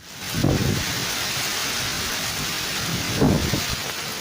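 Heavy rain pours outside a house as a loud, steady hiss, with two low rumbling swells rising briefly through the downpour.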